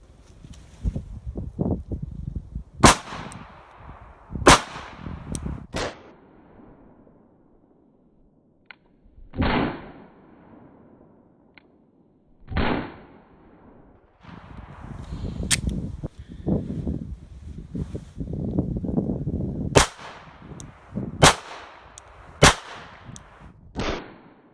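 Glock 42 pistol fired at a target: about a dozen sharp, loud, close reports at irregular intervals, some in quick pairs, with a few muffled thuds and quiet handling noise between.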